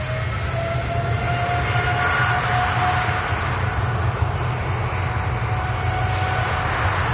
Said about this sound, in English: Gulf Air now on the active runway for departure.